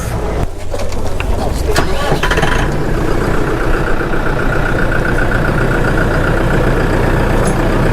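A Case JX90 tractor's engine cranks and catches, then settles into a steady, loud diesel idle that runs on close by without a break.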